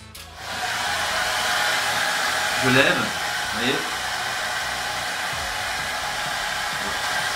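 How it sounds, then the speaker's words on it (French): A handheld hair dryer blows a steady loud rush of air while a hairpiece is dried and styled, continuous and close, with a person talking briefly over it. "je prends le sèche-cheveux"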